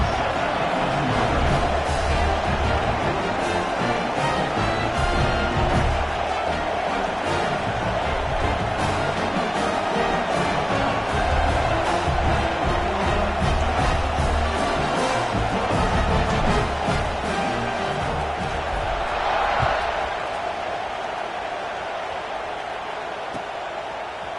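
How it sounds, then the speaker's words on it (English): Football stadium crowd roaring and buzzing after a score and extra point, a thick continuous wash of noise that fades slightly near the end, with a commentator talking over it. "They're ready to kick it away, and this crowd is buzzing after that last score."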